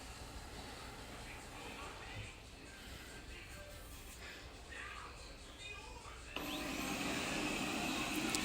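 A Moosoo robot vacuum cleaner running in auto cleaning mode, a steady close whir and brush hum that grows louder and brighter near the end, with a person talking over it.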